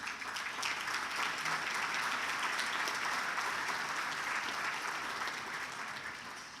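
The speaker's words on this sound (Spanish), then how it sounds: "Aplausos para el Congreso, porque eso es bueno." Steady, dense applause from a forum audience on security and economy, filling the whole stretch at even strength before easing slightly at the end, with no speech over it.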